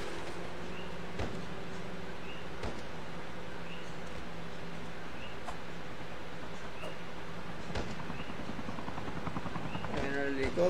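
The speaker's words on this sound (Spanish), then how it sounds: "Helicóptero." Helicopter in the Call of Duty video game, a steady low rotor drone running continuously and fairly loud, with faint voices and scattered game effects over it.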